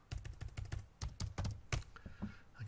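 Keys clatter on an Apple II computer keyboard while a BASIC program is edited, in quick irregular bursts of close, crisp clicks with short pauses between groups.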